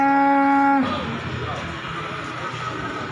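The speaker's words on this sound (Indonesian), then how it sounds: "Kayak ini seperti sapi India ini." A single deep, sustained moo from a cow, close and loud, followed by quieter outdoor background noise.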